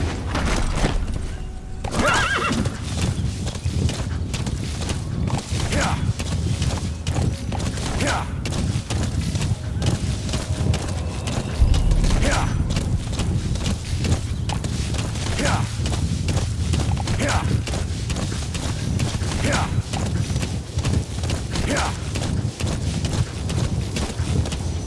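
Horse in Metal Gear Solid V: The Phantom Pain neighs and whinnies repeatedly at intervals, with game music, ambience and occasional thuds running steadily underneath throughout.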